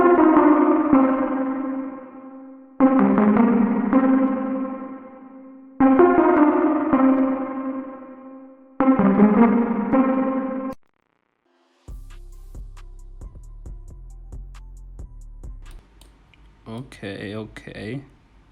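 Synth bass patch from the Serum plugin for a beat, four repeated echoing notes in an even rhythm, followed by a quiet stretch of clicking and faint electronic fragments.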